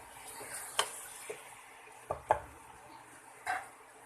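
Chicken browning in a pan for chicken tinola, a faint sizzle under a few sharp clinks and scrapes of a utensil against the pan, spaced irregularly.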